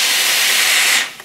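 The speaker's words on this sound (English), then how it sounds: "You'll get a real blast of steam, so you don't want your fingers near the steamer when you're applying the steam." A garment steamer releases a loud, close, continuous blast of hissing steam that lasts about a second and then quickly dies away.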